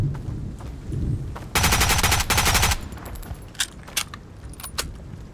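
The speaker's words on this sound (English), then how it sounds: "the shooter is firing from the large white house" A burst of rapid automatic gunfire from a shooter in the survival game Road to Vostok, firing from a large white house, rattles loudly for about a second mid-scene, followed by scattered sharper distant shots and echoes.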